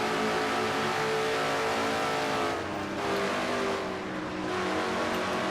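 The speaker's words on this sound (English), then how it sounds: "we're inside Jesse's car now with 6th position, Jesse Turner that is" A stock race car engine roars at speed from inside the car during an oval race, a loud, continuous drone with slight dips as the driver lifts, heard alone without talk.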